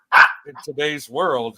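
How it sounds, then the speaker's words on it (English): A pet dog barks once sharply at close range, followed by short yips and whining tones mixed in with a person talking. "But also sorry for my dog barking."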